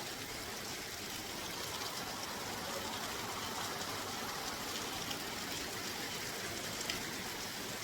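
Heavy rain pours down in a dense, unbroken roar, steady and loud throughout, with no voices.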